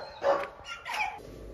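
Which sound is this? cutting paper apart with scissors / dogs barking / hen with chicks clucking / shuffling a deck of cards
dogs barking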